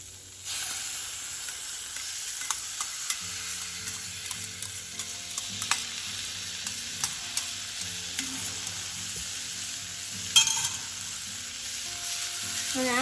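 Vermicelli sev being stirred into a sizzling pan mixture for a kids' lunchbox dish: continuous quiet frying hiss with scraping and stirring strokes, and a sharper clatter near the end.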